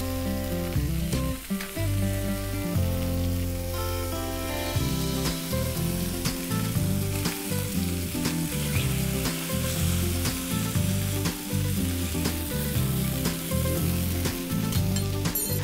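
Tilapia fish frying uncovered in a pan, a steady, loud, dense sizzle and crackle running throughout with occasional soft scrapes of a spatula, no voices.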